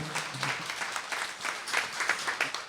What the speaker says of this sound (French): je veux quand même qu'on applaudisse l'auteur de ce texte